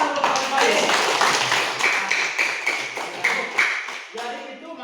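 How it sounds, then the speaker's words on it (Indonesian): Applause from a classroom of students during a lesson, a dense burst of many hands clapping at close range that holds steady and then slowly thins out, with voices mixed in underneath. "Oke, tepuk tangan dulu baik."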